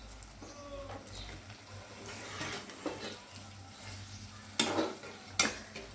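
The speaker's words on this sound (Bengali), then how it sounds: "একটু জল দিয়ে দিয়ে কষে নিচ্ছি" Winter vegetables sauté in a pan with splashes of water added, giving a soft sizzle broken by stirring scrapes and a couple of sharp clinks of utensil against the pan, close but fairly quiet.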